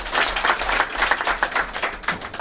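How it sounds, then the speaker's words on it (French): Audience applause with dense hand-clapping at a political gathering in Côte d'Ivoire, steady and fairly loud, lasting a couple of seconds without voices on top. "Et donc je voudrais vous dire merci, cela devrait être vraiment applaudi."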